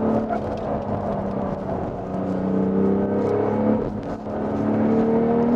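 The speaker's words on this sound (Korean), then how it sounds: "감속하면서 다운시프트 쳐주고 하등 그대로 옮겨주면서" BMW X3 M40i engine heard from inside while braking into a corner and downshifting, a steady drone with a pitch that dips and climbs and a throttle blip near the middle, continuous and fairly loud.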